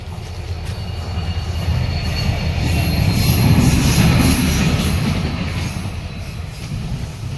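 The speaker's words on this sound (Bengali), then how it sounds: "ট্রেনের ইঞ্জিন গেল।" A train engine rumbles past a residential neighbourhood house on a cloudy pre-rain day, its low roar swelling to a peak mid-way and then easing off, with no voices.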